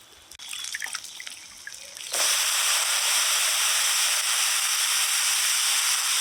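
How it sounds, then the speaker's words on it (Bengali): Washed vegetables being tipped from a bowl into a wok along with their rinse water, a sharp steady watery hiss and sizzle that rises suddenly and continues loud, after a few faint drips and clatters. "এবার জল দিয়ে তুলে তুলে কড়াইতে দিব"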